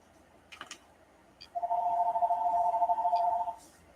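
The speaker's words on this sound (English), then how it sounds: "Why is my phone ringing this early?" A phone rings once as a steady electronic tone lasting about two seconds over a quiet room hum, with a few faint clicks before it.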